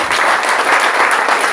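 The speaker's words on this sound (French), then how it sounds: "Applaudissons pour le Seigneur." A church congregation applauds together in steady, dense clapping that fills the room, loud and continuous with no pauses.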